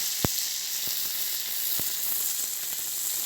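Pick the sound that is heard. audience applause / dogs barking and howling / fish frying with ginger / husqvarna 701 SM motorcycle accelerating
fish frying with ginger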